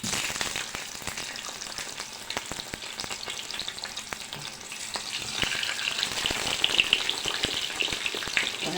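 Chickpea kofta patties fry in a pan with a spoonful of oil, giving a steady crackling, spattering sizzle that grows slightly louder and busier toward the end, with no talking.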